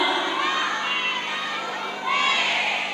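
A crowd, many of them children, shouts and cheers for team B at a religious gathering in a village, a continuous loud mass of voices that surges again toward the end.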